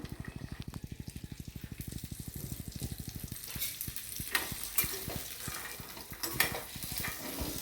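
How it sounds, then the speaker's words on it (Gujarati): Soaked peanuts stir-fried in oil with asafoetida: a quick, even run of rhythmic scraping strokes first, then the stirring loosens into an uneven bubbling sizzle as the moisture cooks off. "અને એનું મોઇશ્ચર ઉડાડી દેવાનું છે, અને એને થોડાક સ્ટર ફ્રાય કરવાના છે."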